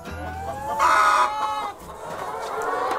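Hens on a small organic egg and fruit farm cluck and squawk nearby, with a louder drawn-out call near the start and steady overlapping clucking after it.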